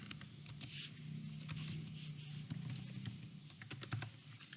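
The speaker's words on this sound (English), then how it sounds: "From here, I go ahead and type in my password." Fingers tap out a password on a computer keyboard, a quick run of soft irregular keystrokes close by over a low steady hum, with no talking.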